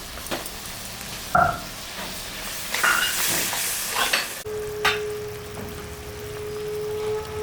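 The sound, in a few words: rohu fish curry with water, salt and turmeric sizzling in pan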